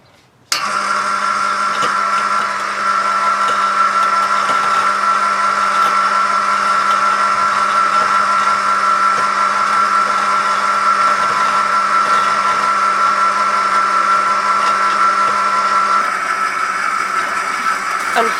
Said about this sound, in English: With the rope and help of the gravel pump, we press down the fountain tube and you can see how it sinks.